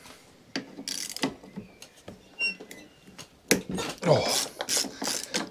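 Small ratchet wrench clicking in short, irregular bursts while a bolt is worked on a Honda HRX467 lawn mower, close and quiet, with a brief exclamation from a man partway through.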